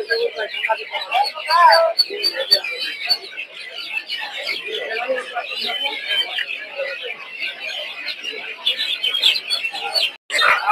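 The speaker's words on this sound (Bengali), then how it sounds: "এদিকে প্রচুর পরিমাণে টাইগার মুরগির বাচ্চা দেখতে পাচ্ছেন" Tiger chicken chicks at a busy village poultry market chirp in a dense, continuous flurry of high peeps, with other birds cooing and clucking and people talking nearby.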